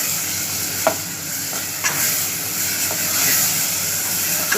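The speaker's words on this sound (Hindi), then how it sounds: "तो अब मैं अच्छी तरीके से भून लूँगी।" Brinjal bharta, a mashed eggplant dish, sizzles steadily as it fries in a pan, with several sharp scrapes of stirring cutting through the constant hiss. No voices are heard.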